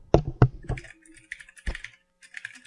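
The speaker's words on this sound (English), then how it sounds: "Hey, I hear you typing." A computer keyboard clicks in a few sparse, close keystrokes with gaps between them, and a voice murmurs faintly in the background.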